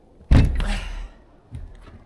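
A door that has grown tight in a settling house is forced open. A sharp, heavy thunk is followed by a dragging rumble that fades, then a softer bump. No one speaks.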